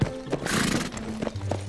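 A cartoon horse whinnies and its hooves clop in short bursts, close and fairly loud, a quick animated sequence lasting under two seconds.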